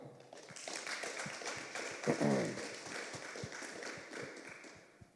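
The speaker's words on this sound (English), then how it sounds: "Give him a clap" Audience applause at a memorial lecture evening, a fairly faint, steady patter of many hands clapping in a hall, with a brief voice rising partway through.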